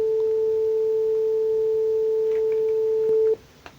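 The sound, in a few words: generated digital audio tone, 5 seconds, sampling frequency 1000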